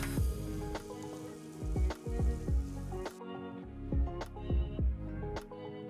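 Chopped onion, ginger and green chili sizzle steadily in a hot pan, broken by a series of scraping, tapping stirs of a spoon against the metal, close up with no voices.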